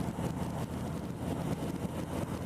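A Harley-Davidson Fat Boy 114 motorcycle from 2018 idles with a steady, low, even rumble, heard up close and fairly quiet with slight wind noise over the top.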